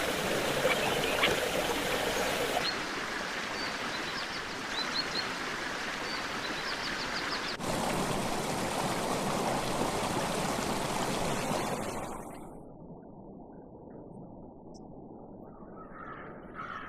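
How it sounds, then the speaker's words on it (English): Spring water flows steadily at the En-Gedi oasis in a barren desert landscape, a continuous near rush that drops to a softer, quieter trickle for the last few seconds, with no voices. "the numerous springs of En-Gedi provide the only source of fresh water for miles"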